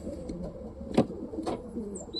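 Soft, low cooing of a homing pigeon, a couple of close, muffled coos over a quiet background.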